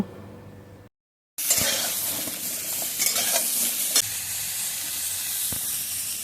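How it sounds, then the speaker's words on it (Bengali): Papaya and eggplant fry in a pan for a Bengali shukto. A brief cut of silence is followed by a loud, bright sizzle with spatula stirs and a few sharp knocks. "বেগুনের সাথে কিন্তু হালকা করে পেঁপেটাও একটু ভেজে নেব"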